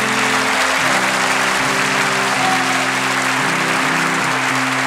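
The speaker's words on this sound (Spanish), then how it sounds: "Un fuerte aplauso para él." Applause for a guest on a Spanish-language comedy talk show: a loud, continuous wash of clapping with a steady tonal musical backing running underneath.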